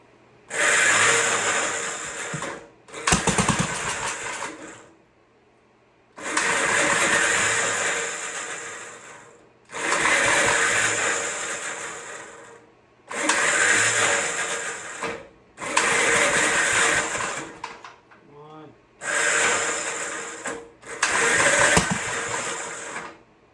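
A 1958 Model L Gravely tractor engine sounds in seven short mechanical bursts of about two to three seconds each, separated by silent pauses, close and fairly loud.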